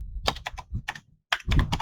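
A note is typed on a computer keyboard in quick clusters of clicky keystrokes, close and crisp, with a short pause between bursts.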